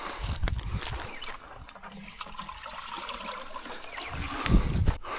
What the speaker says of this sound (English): I'll put some water in the bucket here